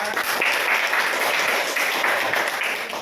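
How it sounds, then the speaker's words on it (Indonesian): Students in a classroom clap after a group presentation, a lively, close burst of many hands clapping that carries on evenly for about three seconds. "Tepuk tangan kita semua."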